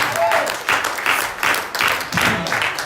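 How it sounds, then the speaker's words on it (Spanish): A church congregation claps in applause during a Spanish-language sermon, a steady dense patter of many hands that swells in waves and fills the room, with a voice speaking faintly beneath. "¿Cuánto le pueden dar un aplauso?"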